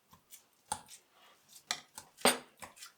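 A pastry blender mashes avocado for guacamole in a bowl, sending out irregular sharp taps and squelchy presses, some louder than others, with no talk.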